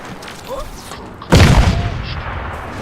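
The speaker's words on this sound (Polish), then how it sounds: "Nie no, on rzucił granatę." Grenade explosion in the shooter game Crysis 2, a sudden loud boom with a rumbling decay that follows quieter in-game sounds.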